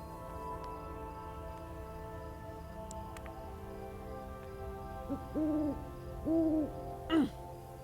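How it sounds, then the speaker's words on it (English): Owls hoot in the video game The Stillness of the Wind, three soft, rounded calls near the end over a quiet sustained musical drone, with a brief chime at the start. "These owls are definitely, what they're hooting is good job, good job."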